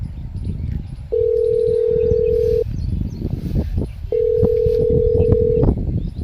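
Two long, steady telephone tones sound one after the other with a short gap between them, clear and fairly loud over a noisy outdoor background.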